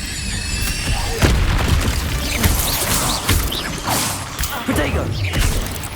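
Spell-casting effects in Hogwarts Legacy: repeated booming fire bursts and whooshing swishes from the Incendio spell, loud and busy, layered with game clatter and short impacts throughout.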